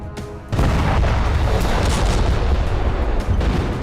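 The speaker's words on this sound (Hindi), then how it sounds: "आईएनएस अरिघात से पहली बार K4 SLBM का सफल परीक्षण किया गया।" A K4 submarine-launched ballistic missile launches from the nuclear submarine INS Arighaat, bursting into a loud, sustained roar that starts abruptly after a brief quieter moment and rumbles steadily on.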